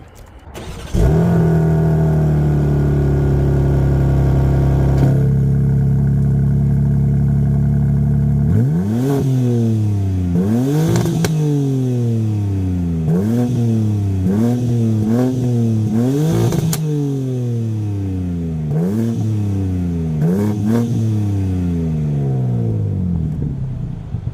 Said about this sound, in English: let's try a little remote engine start, cold start